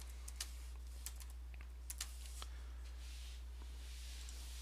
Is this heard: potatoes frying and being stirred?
no